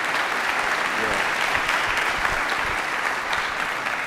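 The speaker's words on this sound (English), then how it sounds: "I feel like we should clap for that for some reason." Audience applause at a school forum talk, a continuous, even burst of clapping from a large crowd that fills the whole stretch with no clear speech.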